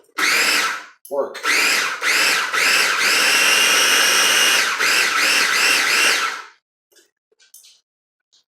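A food processor pulsing pizza bagel ingredients, several loud whirring bursts with short pauses between, then one long sustained run before it stops, with a brief spoken word.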